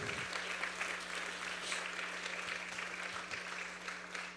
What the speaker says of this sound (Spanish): Si va a aplaudir, aplauda bien.